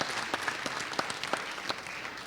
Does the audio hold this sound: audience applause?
yes